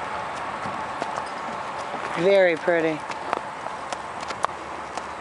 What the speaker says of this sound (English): approximately 5-year-old bay draft horse. Looks like a Shire Cross.